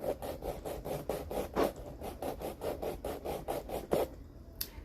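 Steady rhythmic rasping of a nail file across fingernails, about a dozen quick back-and-forth strokes close up, each stroke a short scratchy burst, with no talking.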